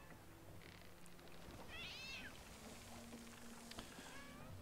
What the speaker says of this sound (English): Oh, aren't you a cute little kitty cat?